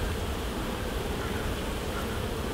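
Honey bees swarm and hum at an open hive during an inspection, a dense, steady buzzing drone that stays loud and close throughout with no voices.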